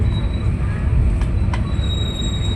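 KA Cikuray passenger train running on rails, a continuous close rumble of the carriage with a thin wheel squeal and a couple of brief metallic clicks.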